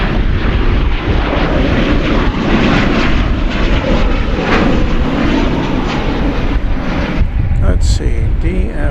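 Lufthansa jet departing Dallas Fort Worth for Frankfurt, a loud, steady roar of engines filling the whole stretch, with speech over it and a brief shift near the end.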